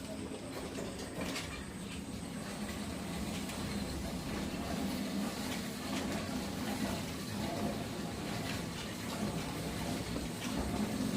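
Water gushes steadily into a 25-gallon container on a pig farm, a continuous rushing fill that stays even and fairly close throughout, with no talking.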